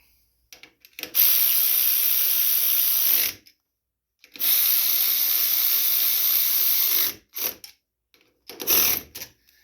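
Power tool whirs in two long steady runs, then a few short bursts, while tightening the carburetor on a John Deere LA105 riding lawn mower; close and moderately loud, with near-silent pauses between runs.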